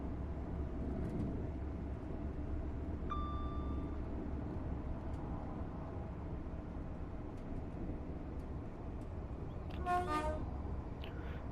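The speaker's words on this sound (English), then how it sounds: "Another LNER Zoomer going by." A passing LNER Azuma train in the game Train Sim World 6 makes a steady low rumble, with a short tone early on and a harmonic horn blast near the end.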